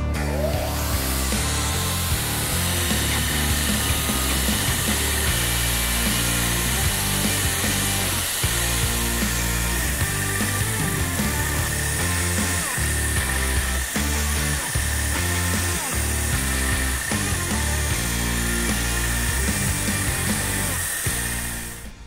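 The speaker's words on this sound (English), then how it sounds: "this grinder is one of the smoothest running machines on the market" A 2x72 Economy belt grinder with a billet aluminum frame runs steadily, giving a continuous loud motor and belt whine with a constant hum and no pauses, heard alone throughout.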